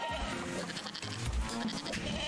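A goat bleats while being picked up in the video game Moving Out 2, short wavering cries over busy game music and background noise.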